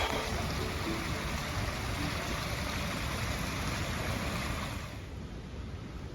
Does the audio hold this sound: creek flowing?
yes